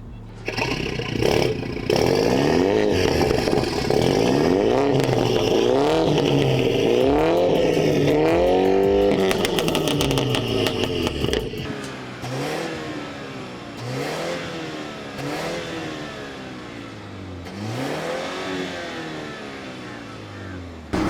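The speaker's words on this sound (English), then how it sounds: "Rev up the car, show us what you got." A fully modified BMW 330e engine revs hard again and again in a rev battle, in loud, rising and falling bursts, then settles into a lower idle with a few lighter blips.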